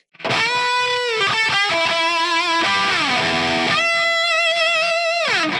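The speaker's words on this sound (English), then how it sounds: "I guess I can turn a little bit of reverb on and play some a" Distorted electric guitar, an Epiphone Kirk Hammett 1979 Flying V, plays a lead line of sustained, bending notes with quick runs between them, washed in a touch of reverb, loud and alone.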